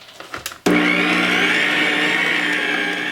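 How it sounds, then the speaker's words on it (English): A stand mixer starts up with a sudden loud whir to mix white bread dough, settling into a steady, high-pitched motor drone that holds for several seconds after some brief handling noises. "now I'm going to mix it"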